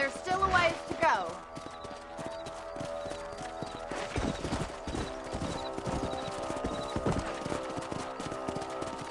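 Horses' hooves clip-clop steadily while riding out in Red Dead Redemption, with a brief whinny near the start and game voices talking over the rhythmic hoofbeats.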